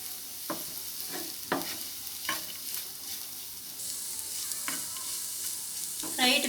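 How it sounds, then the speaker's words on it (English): Egg frying in a pan for fried rice: a faint, steady sizzle broken by several sharp scrapes and taps of a spatula stirring against the pan, with no talking. "Egg should be fried well."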